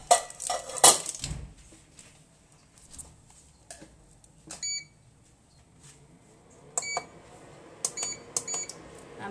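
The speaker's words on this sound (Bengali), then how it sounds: "এখন আমি চুলাটায় ফ্রাই প্যান দিছি" Metal frying pan set down on a kitchen stove while cooking chicken dopiaza, giving a sharp clatter followed by scattered quieter knocks, clinks and a few beeps in a quiet room.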